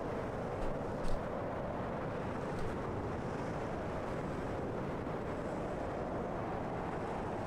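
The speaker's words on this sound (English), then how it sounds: "I can't hear it over the wind." Steady roaring wind in the video game Rain World blows without a break, a full, rushing gust with no voices over it.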